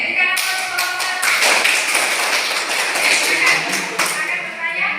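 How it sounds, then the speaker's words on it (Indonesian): A classroom group claps together for the first student team, a dense, steady patter of many hands lasting throughout with a few sharper slaps, fairly close and loud. "Oke, berikan aplaus kelompok 1."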